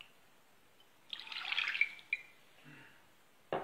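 A brief splash and trickle of water poured into a bowl, quiet and close, ending with a soft clink.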